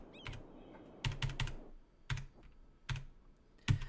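Computer keyboard typing in short clustered bursts of close clicking keystrokes separated by pauses, with no voices.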